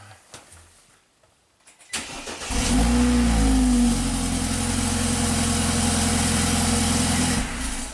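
A BMW car engine cranks and catches after a quiet moment with faint handling noises, then settles into a loud, steady idle that holds close by for several seconds with no talk.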